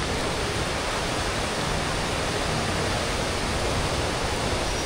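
Sada waterfall pours in a steady, loud, broadband rush that fills the whole stretch, close and unbroken, with no voices over it.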